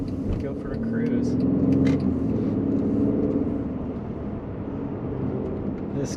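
A 2014 Mercedes W212 E350 sport sedan with AMG wheels pulls away in sport mode, its engine rumbling low and steady from inside the cabin, with a person talking over it.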